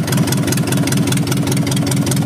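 A freshly overhauled Isuzu 4BA1 diesel engine idles loudly and close by with a steady, even rumble and a rapid rhythmic knock that never changes.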